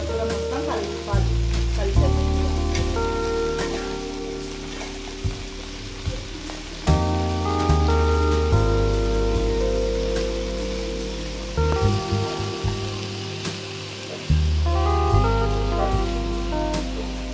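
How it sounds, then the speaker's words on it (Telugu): Onions and spinach, palakura, sizzle steadily in a pan while being stirred, with repeated scraping and stirring noises over a background of tonal music. "ఇప్పుడు ఉల్లిగడ్డలు అన్నీ పాలకూర మొత్తం కలుపుకోవాలి"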